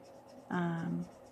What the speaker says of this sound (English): So one of the things I do notice about these markers is they're a little scratchy.